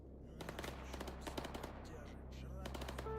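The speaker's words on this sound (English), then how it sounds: "I hear gunfire already." Faint, rapid bursts of gunfire in a video game rattle in the distance over a low steady hum, coming in quick repeated volleys.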